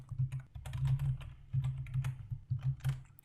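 Typing on a computer keyboard while writing HTML code, with quick, uneven bursts of close key clicks and short pauses between runs, heard alone without talk.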